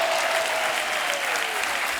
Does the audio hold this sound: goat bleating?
no